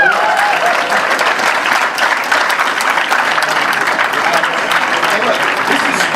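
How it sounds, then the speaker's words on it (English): A university talk audience at UVA breaks into loud, sustained clapping, a thick continuous patter of many hands with faint cheering mixed in throughout. "Can we clap it up?"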